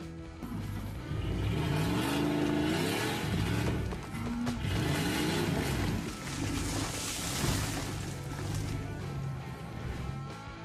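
An upgraded SUV engine labouring to uproot a tree on a plot, a steady loud drone with rising and falling revs and strain throughout, close and continuous with no speech.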